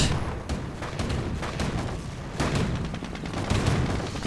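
Battle sounds in the Company of Heroes video game: a grenade goes off on an anti-tank gun amid a busy run of booms, gunfire and artillery-like blasts, loud and dense, with no talk.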